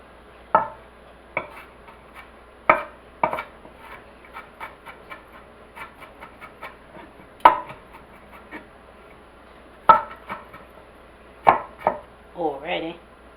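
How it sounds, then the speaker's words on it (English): Knife chopping a white onion on a chopping board, a run of sharp, close, irregular thuds and taps spread throughout, with a brief scraping rustle at the end. "I'm just going to chop these up like this."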